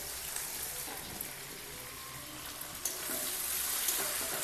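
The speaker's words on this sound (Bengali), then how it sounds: "এবার দেবো পেঁয়াজ, ঝুড়ি ঝুড়ি করে আগে কেটে রাখছিলাম, সেই পেঁয়াজটা দেবো।" Chopped onions hit hot oil in a pan, producing a dense, continuous sizzle and crackle that swells slightly toward the end, with no talking.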